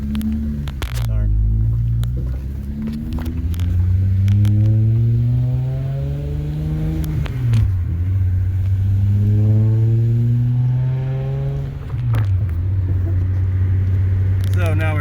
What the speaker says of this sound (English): So now we're test driving and we're going to make sure the car is good.